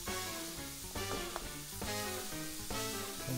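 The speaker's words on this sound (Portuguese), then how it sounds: "Vamos refogar bem essa cebola aqui, ela já vai impedir que o alho queime" Onion and garlic sauté in hot oil for a pork parmigiana dish, a continuous close sizzle with a few stirring knocks over music playing in the background.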